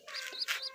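A pigeon chick cheeps softly in a quick run of high, thin peeps, close by and alone.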